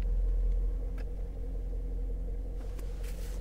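A Range Rover engine with a 3.6 turns over and settles into a low, steady rumble at idle, close and fairly quiet, with no talking.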